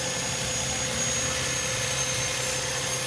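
A car engine idles steadily just after being started during a cleanup, giving a continuous close rumble with a faint high whine and no voices.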